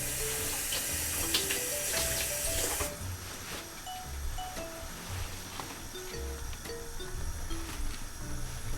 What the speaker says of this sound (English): I'm just going to rinse these off again